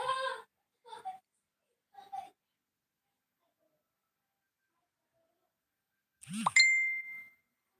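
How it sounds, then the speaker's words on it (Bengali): Messenger notification tones on a phone: three short chimes about a second apart, a few seconds of quiet, then a longer ringing tone with a rising sweep, in a quiet room. "টুংটুং করে এত মেসেঞ্জারে ফোন আসে মেসেজ আছে"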